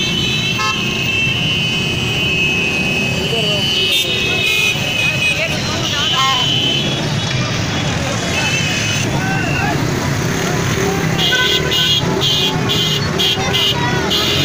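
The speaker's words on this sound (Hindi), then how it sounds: "शोर बहुत ज़्यादा है यहाँ पे, ट्रैफिक बहुत ज़्यादा है" Busy city street in Layyah during an Independence Day celebration: dense, constant traffic roar with repeated car horn toots and honks, crowd noise and nearby voices talking throughout.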